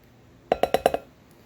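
Glass taps against a glass bowl five times in quick succession, bright clinks evenly spaced and close, with nothing else around them, while making shortcake.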